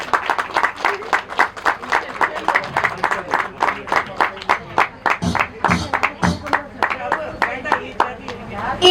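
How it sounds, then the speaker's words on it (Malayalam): At a Holy Communion celebration, an audience claps to welcome two children, Adam and Adah, in a lively, fairly rhythmic run of close hand claps that stays even in volume for several seconds. "നല്ലൊരു കൈയടി കൊടുക്കാറുണ്ട്"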